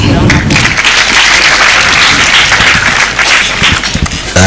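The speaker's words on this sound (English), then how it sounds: "And also thank our teachers, our judges, and also you clap for them" Audience at a school debate between College Maranatha and Espanya claps for the teachers and judges, a dense, loud round of applause filling the room throughout, with voices mixed in beneath.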